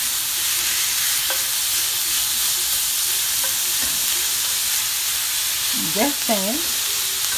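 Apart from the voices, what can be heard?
taco meat frying in a pan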